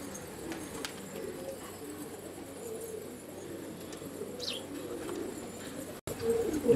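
A large flock of White Bar pigeons fills the air with a continuous low murmur of overlapping coos, steady and moderately near, with a brief sharp cut and louder bird noise at the end.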